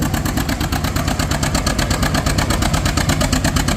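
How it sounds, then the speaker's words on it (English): Antique tractor engine at a tractor pull in Milledgeville, Illinois, running loud and steady with a continuous throbbing rumble throughout. "I expect this tractor to go tromping right through here too."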